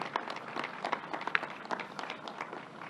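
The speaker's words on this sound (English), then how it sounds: "Let's give them a round of applause." Sparse, light applause from an audience at a New York governor's news conference, heard as scattered individual claps rather than a full ovation, fairly faint and steady for about three seconds.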